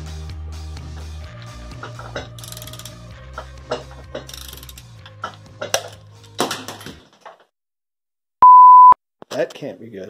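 Torque wrench tightening connecting rod bolts on a Mopar 5.9L Magnum V8 to 75 foot-pounds, with a series of close ratcheting clicks and metallic clinks, then a short pause and a sharp electronic beep near the end.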